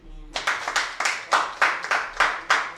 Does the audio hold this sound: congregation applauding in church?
yes